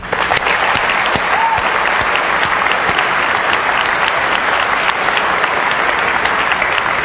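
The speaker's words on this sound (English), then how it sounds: "I would just like to give them a round of applause" Sustained, loud applause from a large keynote audience at Macworld Expo San Francisco 2002, continuous dense clapping filling the whole stretch without pause.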